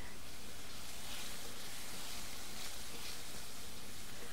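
Mushrooms sizzle as they go into a hot pan with a chicken and orange stir-fry, a steady broadband hiss of frying filling the clip at an even level with no talking.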